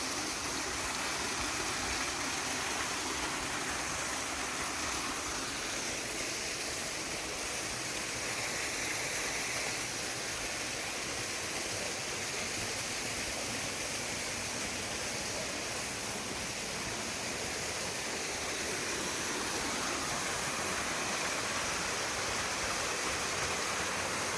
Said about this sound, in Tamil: இந்த அழகான இந்த நீர்வீழ்ச்சியை பார்த்துக்கிட்டே அந்த சத்தத்தை நம்ம கேட்டுக்கிட்டே